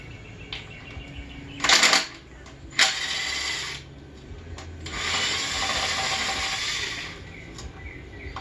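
Hand ratchet working the transmission bolts on a Foxbody Mustang, several bursts of fast close clicking separated by pauses, the last a longer steady run of ratcheting in a quiet garage.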